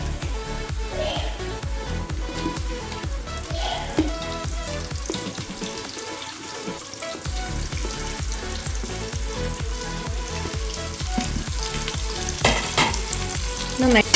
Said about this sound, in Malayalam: ഇനി നമുക്ക് ഇതിലോട്ട് ഒണിയൻ ആഡ് ചെയ്യാം